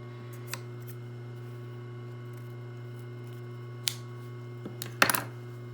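Scissors snip through fabric for a sewn collar, a few sharp, close cuts spaced apart over a steady low electrical hum, the last snips coming quickly together.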